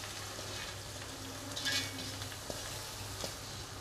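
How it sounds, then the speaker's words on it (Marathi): Sprouted mung beans sautéed in a pan for usal, a continuous close frying sizzle with a few soft spatula scrapes and clicks, no voices. "आणि छान असं परतून घेऊया"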